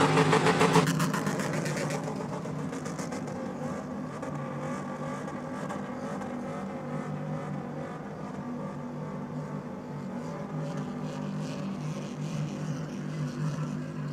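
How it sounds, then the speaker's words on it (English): At a racing event, a car engine drones and revs steadily from a distance, with a louder burst at the start and a continuous mechanical hum throughout. "That was a good skid there, Stu."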